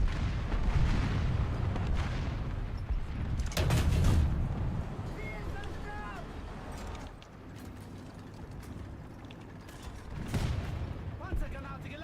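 Tank gunfire from an enemy vehicle in War Thunder, heavy cannon shots booming and rumbling with mechanical clanks between them, heard alongside game noise and some talking.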